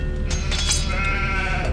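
Sheep bleat in the Age of Empires II game, a few wavering calls rising over a steady low background hum, loud and close across the short stretch.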